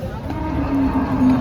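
A cow lets out a low, drawn-out moo against the murmur of a busy outdoor crowd at a cattle market.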